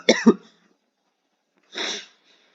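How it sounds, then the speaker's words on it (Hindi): One person coughs twice in quick succession, then once more after a short silent pause, close and fairly loud in a quiet room. "सॉरी यार खांसी हो गया थोड़ा।"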